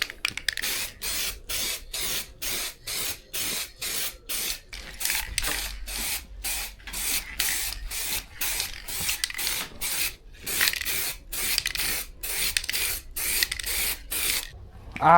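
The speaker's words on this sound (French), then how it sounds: "Et dernière couche de peinture." Short bursts of spray paint hiss onto a Honda CB500X motorcycle part for the second coat, rapid rhythmic puffs with brief gaps, close and fairly loud.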